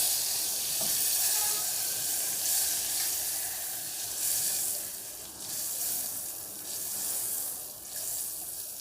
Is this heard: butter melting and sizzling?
yes